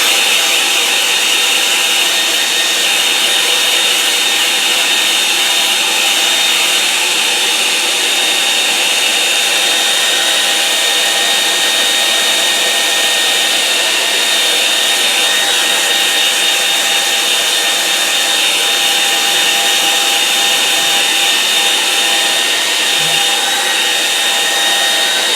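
A hair dryer blows steadily on a watercolour moorland painting, a loud, even whirring drone with a high whine that holds unbroken throughout, with no talking.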